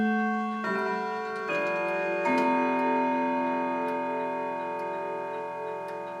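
Grandfather clock striking a melodic chime tune, several sustained bell-like tones entering one after another and ringing out together, moderately loud and resonant with long decays.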